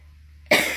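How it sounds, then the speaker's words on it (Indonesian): A single sharp cough bursts out close to the mic after a moment of near silence. "mohon maaf ya saya batuk"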